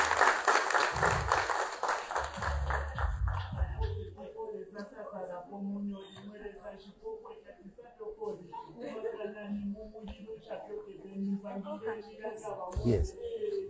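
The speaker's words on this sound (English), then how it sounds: "Round of applause for her." An orientation audience gives a brief burst of applause for a speaker, loud and dense for about four seconds before stopping, followed by talking and a few quieter noises.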